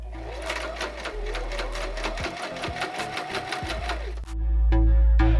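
A sewing machine stitching a headband onto a lace front wig runs in a fast steady rhythmic whir, close and loud, then stops abruptly, leaving a few light clicks and a low hum.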